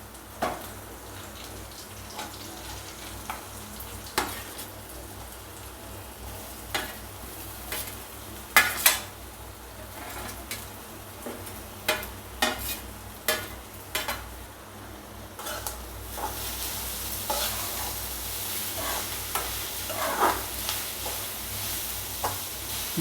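Sliced onion and raw banana sautéing in oil, a low steady sizzle broken by repeated clinks and scrapes of a utensil against the pan, growing louder near the end.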